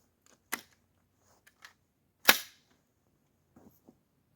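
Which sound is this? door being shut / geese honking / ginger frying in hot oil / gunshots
gunshots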